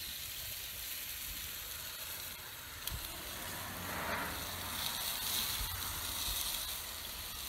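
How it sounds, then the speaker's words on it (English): Burgers sizzle steadily on a hot grill as A1 sauce glaze is brushed on, a constant hiss and crackle with a few soft brush scrapes and taps, no talking. "we're going to go ahead and douse this with a little bit of A1 sauce and then just brush it"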